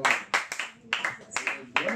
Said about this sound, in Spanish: démosle un aplauso al Señor Todopoderoso